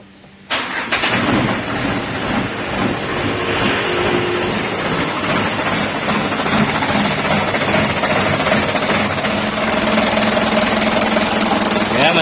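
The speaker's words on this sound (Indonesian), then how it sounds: "kita coba hidupkan mesinnya ya" A Ragasa 120 PS engine turns over and catches after a brief quiet moment, then runs at a steady, loud, rough idle that carries on throughout.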